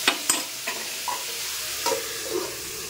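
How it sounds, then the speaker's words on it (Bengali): Ridge gourd in poppy seed curry fries in a pan. A steady close sizzle runs throughout, punctuated by a few sharp scrapes and knocks as it is stirred. "তো এটা ভাজা ভাজা হোক"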